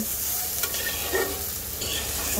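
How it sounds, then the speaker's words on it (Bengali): A prawn and potato curry base sautés gently on a low flame, with a soft, even sizzle and occasional scraping stirs of a spoon through the pan, close by. "এইবার মিক্সড করে দেব আর খুব সুন্দর করে কম আঁচে এটাকে কষাতে হবে।"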